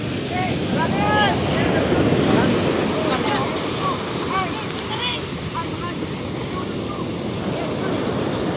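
Large sea waves wash around a small boat crossing open water, a loud continuous surging rush mixed with wind buffeting, while people shout faintly over it.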